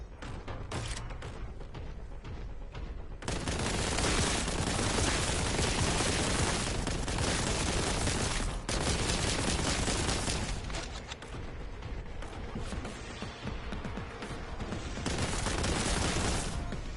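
Dense, continuous gunfire from a Warhammer 40K Boltgun shooter aimed at flamers, loud and sustained with rapid overlapping shots and booming impacts, briefly quieter near the start and around the middle before resuming.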